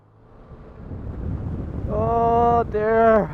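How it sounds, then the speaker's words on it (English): Wind blasts into a microphone outdoors as a rising low rumble that builds to heavy buffeting, and a voice sounds over the gusts near the end. "Wind is like a bitch slap to the face."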